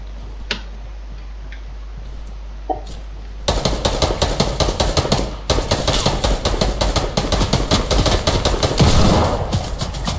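Rapid gunfire crackles from both sides in a French-language shooter video game, starting with a few scattered shots and then breaking into dense, sustained bursts of loud automatic fire.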